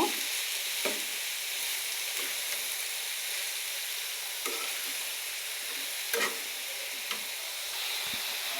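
Papaya and bottle gourd frying together in a pan for a vegetable bhaji, a steady loud sizzle with periodic scraping of a spatula as the mix is stirred.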